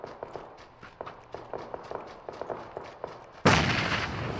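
A thrown grenade in the battle royale game PUBG clatters and bounces with a string of light, regular knocks, then bursts into a sudden loud, sustained explosion.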